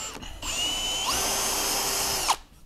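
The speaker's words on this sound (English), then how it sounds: "I'm just gonna drill maybe halfway through the depth of the board" A power drill bores a hole into a wooden board, its high motor whine rising in pitch as it spins up, then running steadily for about two seconds before cutting off abruptly, close and alone.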